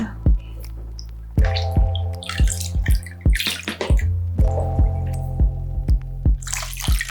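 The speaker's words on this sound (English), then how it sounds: "I'm wetting Nacho's hair and then applying this new shampoo" Water poured and dripping over a guinea pig's hair during a bath, heard as a series of close, distinct plops and drips in an irregular rhythm, with small splashes and faint movement between them.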